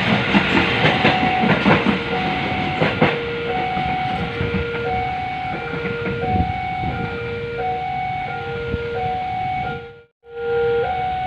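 A train heads from Pasar Senen station toward its final stop at Blitar, a loud steady rumble of the passing cars with a repeating two-tone warning chime sounding over it, before the noise briefly cuts out near the end.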